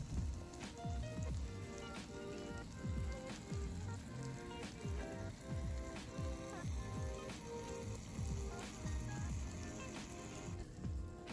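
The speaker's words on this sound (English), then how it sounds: "We're just gonna dip our chile right in that hot oil. We're gonna let that fry on one side till it's golden brown." A chile relleno fries in hot oil with a steady, busy sizzle and crackle of popping droplets that holds evenly throughout.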